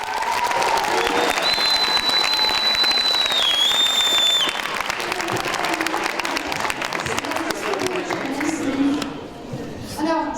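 A school audience applauds at a speech competition final, sustained loud dense clapping with a whistle or two over it, thinning toward the end as a voice begins over the fading applause.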